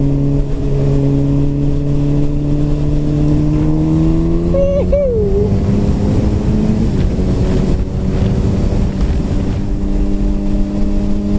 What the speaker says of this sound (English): That guy was tractoring. He's got a tractor.